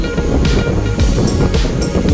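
Strong wind buffets a microphone in loud low gusts, with a roar like surf underneath.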